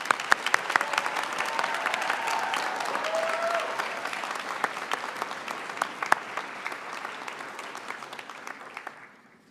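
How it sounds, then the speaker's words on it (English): An audience at a pharmacy school white coat ceremony applauds the class of 2028, a sustained round of dense clapping that gradually fades out at the end. "Let's have one more round of applause for the class of 2028."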